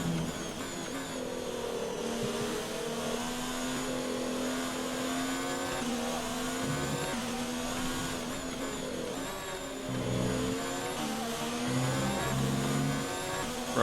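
A Ferrari Formula 1 car engine in the F1 2019 racing game at Belgium screams at high revs, a continuous loud whine with slight pitch shifts as the throttle is feathered, no voices over it.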